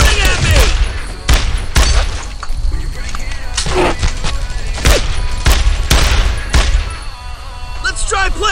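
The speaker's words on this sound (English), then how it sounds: "They're shooting at me!" Gunfire in the Brothers in Arms World War II shooter at the Chateau Colombieres level: repeated loud sharp shots and booming bursts crack through a constant battle din, with voices shouting over the fighting.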